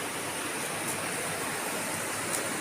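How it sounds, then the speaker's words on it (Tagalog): Kanding Falls, a waterfall, roars as a dense, steady rush of falling water, close and loud, filling the whole moment with no voices. "nandito na po kami sa Kanding Falls"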